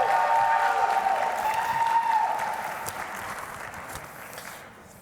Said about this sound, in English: One more round of applause for the Vice Chair of the DNC, Susie Turnbull.